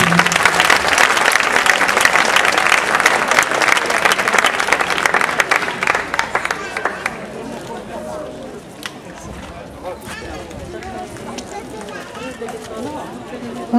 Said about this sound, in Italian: Un altro applauso grande grande